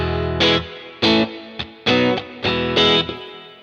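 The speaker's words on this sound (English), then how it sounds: "the normal guitar sounds like this." Clean electric guitar with no effects, strummed chords ringing in about five separate bursts with short gaps and light string noise between them, close and alone.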